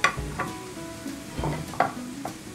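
Already-cooked sauerkraut warms in a pan, giving a soft sizzle while a utensil stirs it in a few scraping strokes with light knocks against the pan, close and without speech.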